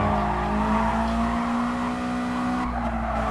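A race car in the video game GT Sport is taken too fast through a turn and runs wide. A loud, steady engine drone carries a sustained tire squeal throughout the short moment.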